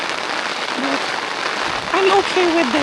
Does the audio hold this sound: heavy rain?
yes